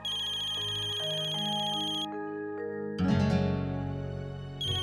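A phone ringtone plays for an incoming call, a bright synthesized melody of stepped tones that pauses briefly and repeats, loud and close with no talking.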